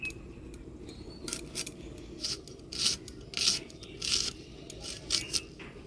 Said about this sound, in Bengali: এবার পেঁয়াজ কেটে নিব।